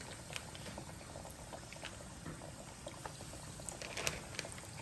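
Potato wedges sizzle inside a Power XL air fryer, a steady soft crackling hiss with scattered small pops throughout, fairly quiet and without talk.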